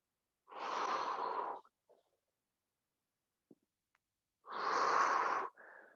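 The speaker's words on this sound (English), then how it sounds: "Big exhales here, guys. That's what's going to help." Two heavy, forceful exhales during a boot camp workout class, each lasting about a second, close and breathy with a short catch of breath after each and near-silence between them.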